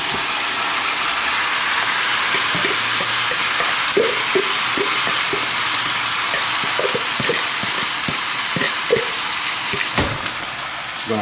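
Chicken legs fry in curry paste in a hot pot for Jamaican curry chicken, giving a steady, dense sizzle with scattered crackles and pops throughout.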